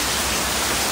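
Steady rain falls over a garden, a dense, even hiss with no pauses or voices.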